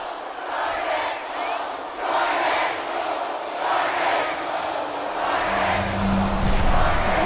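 Stadium crowd in a college football video game bowl matchup before kickoff, a continuous loud roar swelling in waves, with a low rumbling surge building near the end, no speech.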